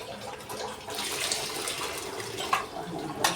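Rice is rinsed under running water in a home kitchen, with a steady stream of flowing water and a couple of brief splashes or clinks near the end, and no talking.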